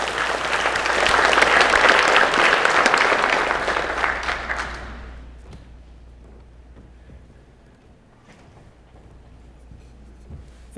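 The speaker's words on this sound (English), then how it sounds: "Y'all give a big warm welcome of applause to Tom Nelson, the American Archer." An audience at an outdoors hall of fame induction ceremony claps loudly for several seconds, the applause swelling and then fading into scattered claps and quiet room noise.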